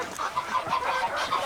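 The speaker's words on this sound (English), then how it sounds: "Oh, wow, it's big Muscovy. Look at the size of this fella." A large Muscovy duck on an outback farm gives a run of repeated breathy, clucking calls, close and fairly loud, with no talk.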